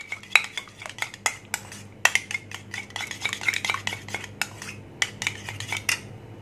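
Yogurt is whisked in a bowl for a hot milk cake batter, with rapid, uneven clinks and taps of the utensil against the bowl, bright and close, in quick bursts with short pauses.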